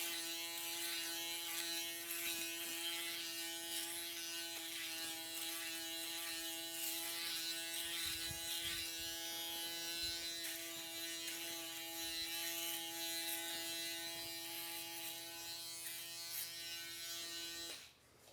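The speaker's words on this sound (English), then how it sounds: "I'm gonna grab my foil shavers and I'm gonna run it on top of these curls" Electric foil shaver buzzing steadily over curly hair before beard work, a close, continuous mechanical hum with a bright harmonic whine that holds for about seventeen seconds before cutting off.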